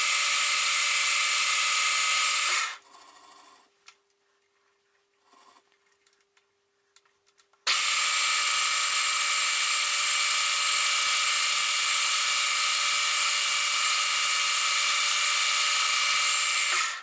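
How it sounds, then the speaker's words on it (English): An old-size drill bit boring a hole in metal for a shaper's new lead screw: a loud steady whine for a few seconds, a quiet pause of about five seconds, then the same continuous drilling resumes and runs on. "let's drill a hole"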